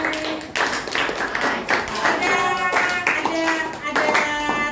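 A class audience claps in rhythmic bursts after a grade 9 math presentation on the volume of a rectangular prism, the claps close and loud, with voices mixed in between them.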